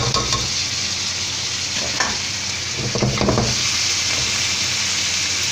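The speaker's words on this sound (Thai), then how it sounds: "เราก็จะผัด กระเทียมกับกุ้งแห้ง" Garlic and dried shrimp stir-frying in a hot pan, a steady close sizzle with a few scraping stirs of the spatula, no voices.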